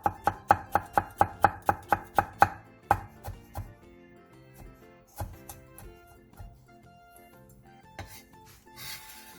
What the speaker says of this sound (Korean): 홍고추 1개를 길게 반으로 가른 뒤 쫑쫑 썰어주세요